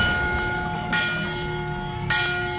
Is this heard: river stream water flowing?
no